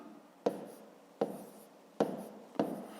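Pen strokes of hand-written long division on paper, four distinct scratchy bursts at a steady pace, close and fairly quiet with no talking.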